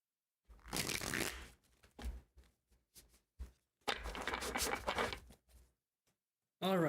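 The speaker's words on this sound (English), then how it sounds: "Let's do one more shuffle here." A deck of tarot cards is shuffled close by: two long riffling bursts with scattered snaps and taps between them in a quiet room.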